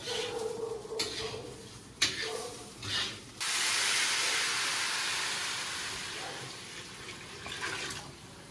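Water poured into pulao rice frying in a pan, setting off a sudden loud hissing sizzle after a few brief clattering knocks; the sizzle then settles into a steady hiss that slowly fades.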